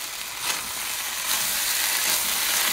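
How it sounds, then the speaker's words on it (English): Pork in chopstick-size pieces sizzling steadily in a hot stir fry pan for a spicy hoisin stir fry, a continuous bright hiss with slight swells, close and fairly loud, no voices. "that sizzling will continue, which is great"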